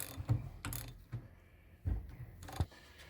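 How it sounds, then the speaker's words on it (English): A torque wrench ratchets with a few separate clicks while tightening a Mitchell OD changeout tool held in a vise, close and fairly quiet, with metallic mechanical clicks and pauses between them. "So we tighten this up and then torque it."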